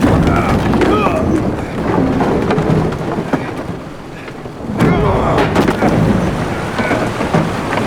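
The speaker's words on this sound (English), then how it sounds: "Didn't bargain for no storm." Thunderstorm at sea in The Witcher 3: Hearts of Stone, with loud, steady rain and rumbling thunder filling the whole stretch, swelling again near the end.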